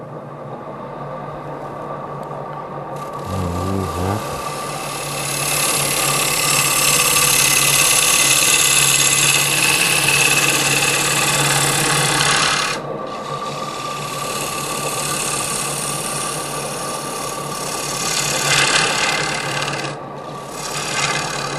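A gouge cuts wood on a lathe, a loud, continuous rasping scrape that holds steady for long stretches, with short breaks where the tool lifts off the spinning piece, close and with no voices.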